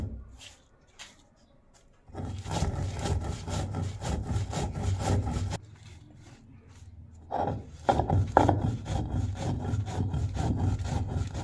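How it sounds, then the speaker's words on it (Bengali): Whole spices for a homemade elephant apple (chalta) pickle are ground on a stone slab with a stone roller, a gritty, rhythmic back-and-forth rubbing close up. The rubbing comes in long bursts, with a lighter stretch in between. "আমি এখন গুঁড়ো করে নেব শিলনড়ায়"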